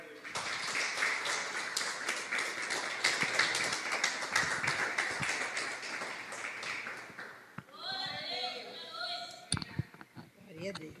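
A church congregation clapping in praise, a dense rapid patter of many hands for about seven seconds, then fading into scattered claps under voices and murmuring.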